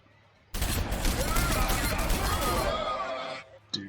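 Sustained, loud gunfire in Warhammer 40,000: Sanctus Reach, with a dense fusillade of rapid shots roaring for about three seconds before cutting off, then one brief sharp report.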